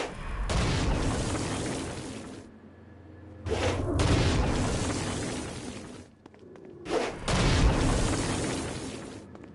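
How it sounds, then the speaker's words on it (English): Stone Blast attack against flying demons in the video game Saints Row: Gat out of Hell, with three loud, broad rumbling blasts, each lasting a couple of seconds and separated by brief lulls, and no talk. "Stone Blast is especially useful on flying demons like this one."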